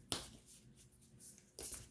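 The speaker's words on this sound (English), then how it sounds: "Just sort of giving these a bit of a shuffle." Large oracle cards from the Oracle of Shadows and Light deck being shuffled by hand, with two quick papery bursts of riffling and slapping, one at the start and one near the end, separated by quieter handling.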